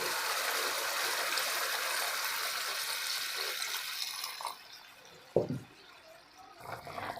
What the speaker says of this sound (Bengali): আমি এখন এখানে পরিমাণ মতো পানি দিয়ে দিব